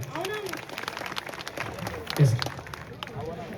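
Audience applause for a guest at a live show and song launch event in Satana, a brief burst of scattered claps mixed with crowd noise and talking, swelling briefly near the middle.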